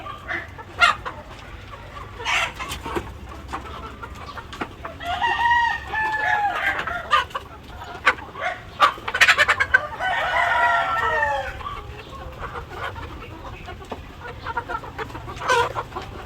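Chickens cluck and a rooster crows twice in the middle, loud and close, with scattered barnyard clucks around them and no talking.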